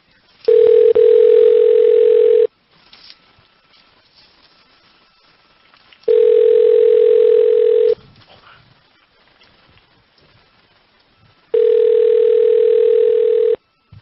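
Telephone ringback tone on an outgoing call: three long, loud, steady buzzing tones about two seconds each, separated by quiet gaps of a few seconds.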